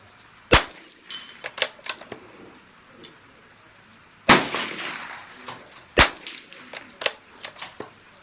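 Rifle shots at a rain-soaked outdoor practice session, three sharp loud cracks spaced seconds apart, with lighter pops and patters of rain and handling in between.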